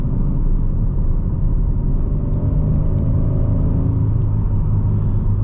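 A 2025 Kia K5 GT accelerates hard on a wet road, heard from inside the cabin as a loud, steady low engine and road rumble that holds throughout with no speech.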